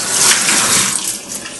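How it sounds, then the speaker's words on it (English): Tap water runs steadily into a sink as a cook washes hands before preparing food, a close, broad hiss with no talking. "I will wash my hands, as every cooker would do."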